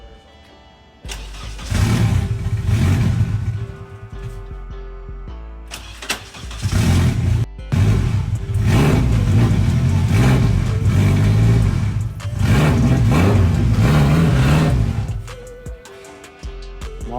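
A turbocharged K20 engine in a Honda Civic cranks up, then runs loud and close, revving hard in several long bursts separated by short drops, with a brief spoken word near the end.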